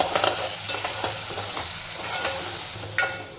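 Ground spice paste hits potatoes frying in ghee with a steady close sizzle, and a few stirring scrapes and taps sound over it.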